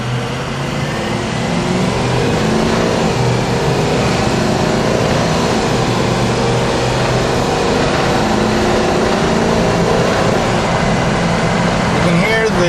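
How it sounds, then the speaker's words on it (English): Turbocharged vehicle accelerates steadily with a continuous loud engine drone heard from inside, pitch shifting as it works up through the gears. "You can hear the transmission going through all the gears, and the turbo is cycling the way it should."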